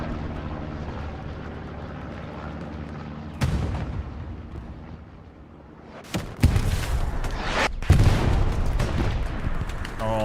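A loud rocket blast bursts out in Hell Let Loose competitive play after a low rumbling battlefield drone, followed by more sharp explosive impacts and gunfire close by.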